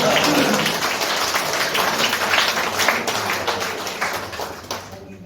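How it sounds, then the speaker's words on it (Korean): Applause from members at a Democratic Party meeting in a provincial party office room fills the space, a dense wash of clapping that holds steady and then thins toward the end. "박수!"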